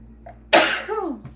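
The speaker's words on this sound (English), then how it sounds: "My nose is trying to sneeze." A single loud sneeze bursts out close to the microphone with a sharp onset, trailing into a short vocal tail, with a faint voice sounding briefly just before.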